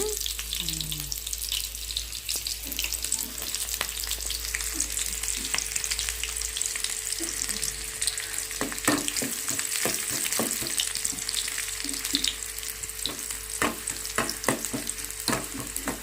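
Chopped onions fry in hot oil with tempering seeds in a pan, giving a loud, continuous close hiss of sizzling with occasional light spoon clicks as they are stirred.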